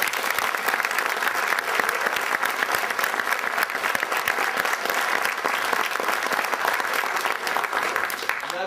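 Sustained audience applause at a live Advent-calendar show in France, steady dense clapping from a large crowd, loud and even throughout with no pauses.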